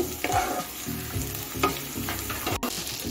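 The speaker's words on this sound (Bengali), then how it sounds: "এখন আমি গাজরটা দিয়ে দিচ্ছি, গাজরটাকে একটু নাড়িয়ে নিচ্ছি।" Carrots stirred and fried in a pan with onion, ginger and garlic for vegetable soup, giving a loud continuous sizzle close up, broken by scraping spatula strokes and a brief clatter.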